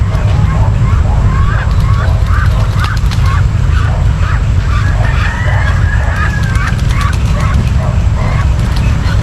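Ducks in a backyard poultry pen honk and quack repeatedly in overlapping bursts over a loud, steady background rumble.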